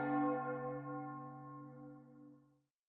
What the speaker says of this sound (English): Is that the bell ringing?